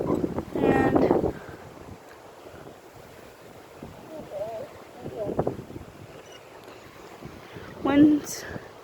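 Strong gusty wind on a windy day near trees and a cornfield, a constant rough rushing buffeting the microphone, with people talking over it.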